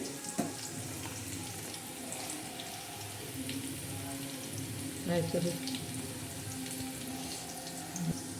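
Onions and curry leaves frying in oil for biryani, a steady broadband sizzle and hiss running throughout, with occasional clinks of a utensil against the pan; close and moderately loud, no voices.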